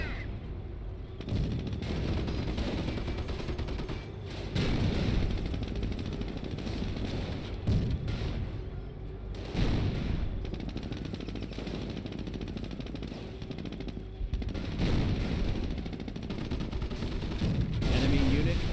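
Sustained rattling gunfire and heavy battle noise from the World War II strategy game Company of Heroes, loud and continuous with bursts throughout, voices shouting in between.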